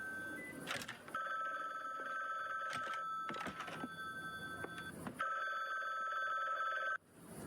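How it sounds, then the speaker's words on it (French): A telephone rings in the video game The Bookwalker, a steady electronic bell tone repeating in bursts over a busy game soundscape, cutting off near the end. "Je vais recevoir un coup de fil de quelqu'un qui est"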